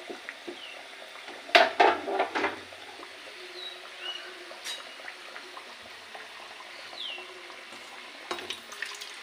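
Steady oil sizzling from fish frying in a pan, with a louder crackling flurry early on, then a quieter continuous hiss.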